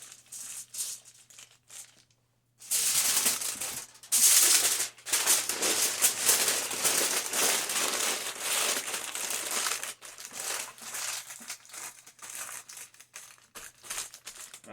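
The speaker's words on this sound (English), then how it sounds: "We're gonna give her another wrap of aluminum foil, just for good measures." Aluminum foil crinkles and crumples loudly and close by as it is wrapped around a whole raw chicken for roasting. A brief hush comes first, then a long stretch of dense crackling that gives way to lighter, scattered rustles.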